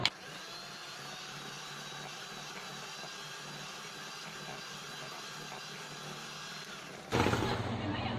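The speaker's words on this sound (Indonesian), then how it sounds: "Kita mixer menggunakan kecepatan paling rendah." An electric mixer whips cream on its lowest speed, giving a steady low whirring hum for about seven seconds before the motor noise jumps louder and rougher near the end.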